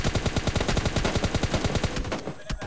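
Rapid automatic gunfire in the mobile battle royale game PUBG Mobile Lite, a dense, evenly spaced burst of loud shots lasting about two seconds before cutting off, with no talking over it.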